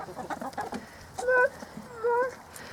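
Chickens and a rooster in a backyard winter coop, steady low clucking throughout, then two loud, close, drawn-out harmonic calls from the birds, each about a third of a second, no talking.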